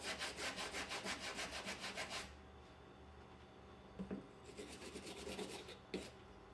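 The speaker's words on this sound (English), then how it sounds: "Maybe you can use the brush if you really want to, and I think I will." A brush scrubs carbon off an AR-15 rifle charging handle in rapid, rhythmic rasping strokes, close and fairly loud for about two seconds, then quieter scratching with a few taps and clicks.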